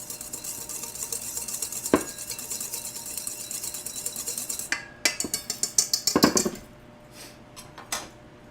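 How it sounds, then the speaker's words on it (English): Dry ingredients for a lemon cream cheese coffee cake are whisked by hand in a bowl. Light scraping gives way to a quick burst of rhythmic metallic clinks and taps, followed by a few scattered knocks. "I'm going to whisk it by hand"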